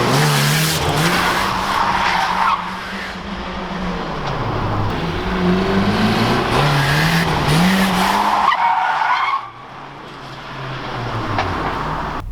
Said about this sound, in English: we're gonna go somewhere to do some burnouts